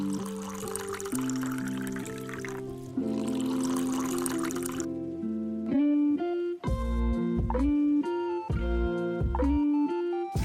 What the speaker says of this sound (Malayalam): നമ്മുടെ കടഞ്ഞു വെച്ചിരിക്കുന്ന മോര് ഇതിലേക്ക്